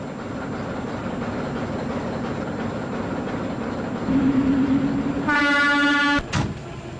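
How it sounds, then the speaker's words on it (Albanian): A passenger train rumbles past on the railway with a steady low roar, then a loud sustained horn blast sounds near the end before cutting off, nearby and alone without talk. "Treni 24 kaloi."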